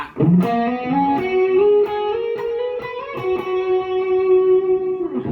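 A slow, sustained distorted electric guitar solo through a POD HD 500X into an amp's return, with long bent notes ringing out loud and close, played alone.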